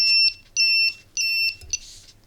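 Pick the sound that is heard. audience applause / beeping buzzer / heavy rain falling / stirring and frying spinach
beeping buzzer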